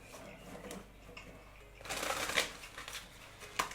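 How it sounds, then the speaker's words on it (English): Tarot cards riffled in quick bursts during a reading, a soft flutter swelling to a loud crackling cascade, close by, with faint talk underneath. "I'm shuffling the wrong deck."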